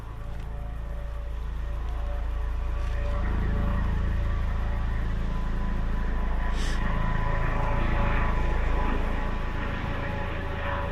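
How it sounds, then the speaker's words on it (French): A steady engine drone builds and swells as an aircraft passes overhead, loud and continuous, with a low rotor-like throb underneath. "Un hélicoptère de l'Ambiway."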